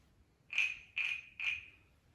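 A small desk-toy cricket gives three short, evenly spaced, shrill chirps, close and quiet. There is no talking and little else in the background.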